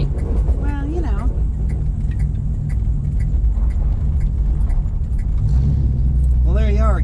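A 1964 Dodge Polara 500 engine idles with a steady low rumble throughout, while people talk over it close by.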